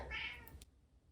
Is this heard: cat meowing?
yes